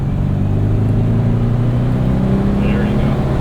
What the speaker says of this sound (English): There we go, revving it out a bit.